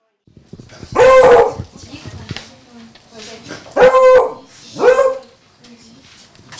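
A beagle, a hunting breed, at a dog training center in Odesa barks loudly and close by in three bursts: one long, then two in quick succession, with quieter sounds in between.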